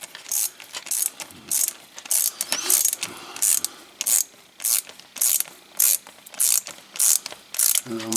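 Ratchet wrench loosening a 7mm hose clamp on a Ford 1.6 EcoBoost engine, a quick series of close, crisp ratcheting clicks in short regular bursts with brief pauses between strokes.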